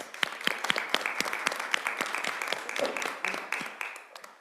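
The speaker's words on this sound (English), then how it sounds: "Let's give them a round of applause." A public school board meeting audience claps steadily for several seconds, a dense patter of many hands indoors that holds even and then thins at the end.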